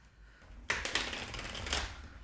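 A tarot card deck is riffled and shuffled close by, a burst of crisp fluttering clicks after a brief quiet start.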